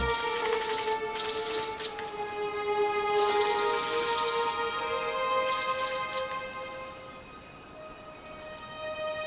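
Birds of paradise performing courtship dances make sustained electronic-sounding whistles and buzzy bursts, with repeated rasping calls and tonal notes layered over each other, fairly close and loud.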